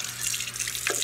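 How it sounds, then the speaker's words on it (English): Water from a kitchen sink tap runs steadily over a cooking pot while making spicy chicken ramen noodles, a continuous close splashing rush that fills the whole moment without any talk. "first you run it over cold water"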